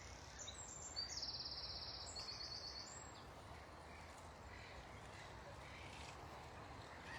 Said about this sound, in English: inland birds contrasting with the kind of harsher sound of the water